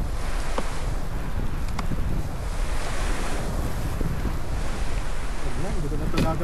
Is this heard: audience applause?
no